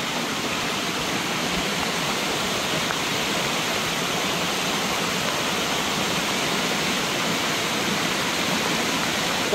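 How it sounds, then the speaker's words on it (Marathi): A waterfall at the Kondhane Caves pours down in a steady, loud, unbroken roar of rushing water that holds constant and close throughout, with no voices. "दाखवतो तुम्हाला वॉटरफॉल वॉटरफॉल आहे वॉटरफॉल"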